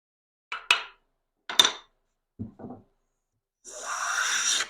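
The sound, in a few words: hand plane shaving wood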